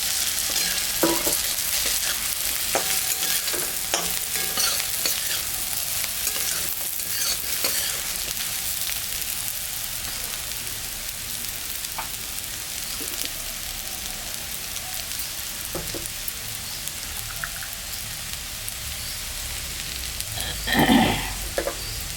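Food sizzling and frying in a pan for a Bengali dab finger dish, with steady crackle and repeated spatula stirring and scraping clicks throughout, plus a louder burst near the end.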